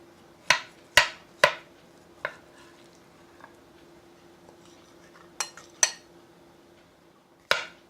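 Apple dump cake spooned out into a different style bowl, with a few sharp clinks and scrapes of the spoon against the dish, spaced irregularly and close by, then quiet between.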